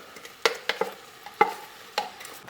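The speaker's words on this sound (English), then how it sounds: "we're going to fry the onion and chilli mixture that we put into our blender" Onion and chilli paste, blended for a beef biryani, frying in oil, heard as a low hiss with several sharp spits and stirring clatters spaced irregularly, close and fairly quiet, with no talk.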